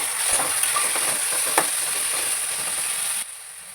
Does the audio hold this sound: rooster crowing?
no